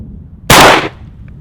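A Benelli shotgun fires a single 3.5 inch double B shell at a target 20 yards away, one very loud close blast with a short rumbling decay, followed by quiet.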